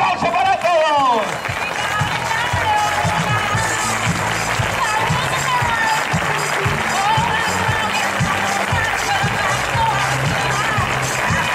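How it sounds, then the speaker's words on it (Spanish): Crowd at the Club Deportivo Fútbol Sala Segorbe team presentation claps and cheers steadily throughout, loud and broad, with amplified music and a voice over the noise. "¡Un aplauso para todos!"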